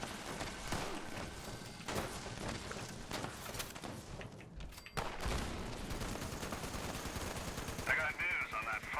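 Gunfire in the video game Fallout 76, with bursts of automatic shots and heavy thumps crackling in rapid volleys, moderately loud and close, continuing throughout with a brief lull midway.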